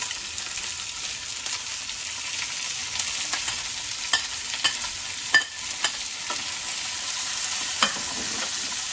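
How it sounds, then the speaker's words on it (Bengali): Vegetables sizzle and crackle in a hot pan, a steady hiss broken by occasional clicks and scrapes of stirring. "এগুলো খালি একটুখানি আমি ভাজা ভাজা করে নেবো, অল্প ভাজবো"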